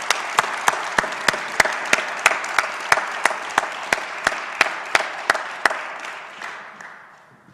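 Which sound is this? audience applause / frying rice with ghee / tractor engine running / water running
audience applause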